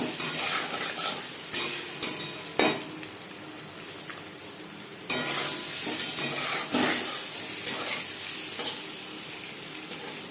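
Eggs fry in a pan until reddish, a steady close sizzle that runs throughout, with occasional stirring scrapes and clicks and no talking.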